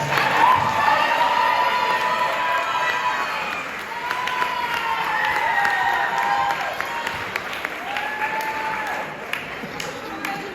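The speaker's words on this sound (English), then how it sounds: "Please give a round of applause." Applause and cheering from a sports banquet crowd welcoming a middle and upper school track and field coach, sustained clapping with whoops and voices mixed throughout.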